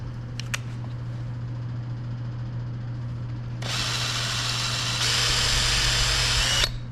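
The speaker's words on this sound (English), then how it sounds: "you could see how that drill bit wandered" A power drill whines in short bursts and then runs steadily for several seconds as it bores into wood for a motor mount, with a low mechanical hum underneath.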